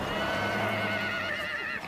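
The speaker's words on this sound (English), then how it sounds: "16 Przewalski horses from European reserves touched down in Ulaanbaatar" Przewalski's horses arriving from European reserves in Ulaanbaatar, Mongolia, let out a long, quavering whinny at moderate distance, with soft hoof clops underneath and no speech.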